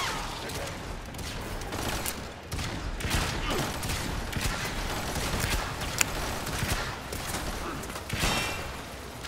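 Dense, continuous weapon fire from the video game Warframe, with rapid overlapping shots and sharp cracks forming a loud, steady barrage throughout.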